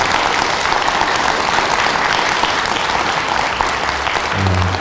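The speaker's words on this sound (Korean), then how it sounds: "다시 다 같이 박수 좀 부탁드립니다" An audience at a Sunday dharma talk at Jogyesa temple bursts into sustained applause, loud and steady throughout, with a faint low hum entering near the end.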